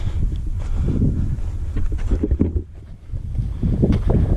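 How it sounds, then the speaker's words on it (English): Wind gusting through a slot canyon in Texas, a loud low rumbling buffet against the microphone that dips briefly before surging back, with no voices. "That wind is kind of trapped up here."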